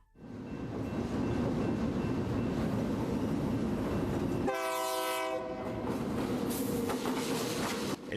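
An Antofagasta-Bolivia freight train hauling copper plates rolls through the city with a loud continuous rumble, and midway a long, blaring horn sounds over the rolling wagons.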